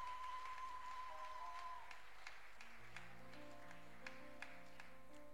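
A church congregation at a Sunday service applauds as a family comes forward. The clapping is faint and steady, with sustained keyboard or organ tones underneath.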